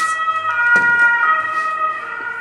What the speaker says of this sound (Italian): Un'ambulanza.